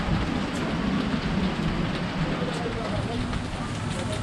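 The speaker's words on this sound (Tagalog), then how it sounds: "Inabot na naman kami ng ulan." Steady, heavy rain pours continuously with a broad hiss and patter and occasional louder drops, close by and with no breaks.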